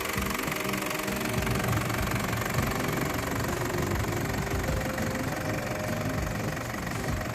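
A 2005 Isuzu Thairung Adventure 3.0 automatic 4x4 engine idles steadily with a low, even rumble and faint mechanical ticking, close up, no voices.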